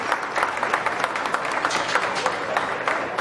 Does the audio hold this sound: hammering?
no